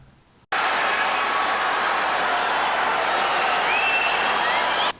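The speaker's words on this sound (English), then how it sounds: "there's a massive roar from the crowd where they're really into this race" A stadium crowd at a sprint race, Michael Johnson against Donovan Bailey, roars in a loud sustained wall of noise that cuts in abruptly and holds steady before dropping away at the end.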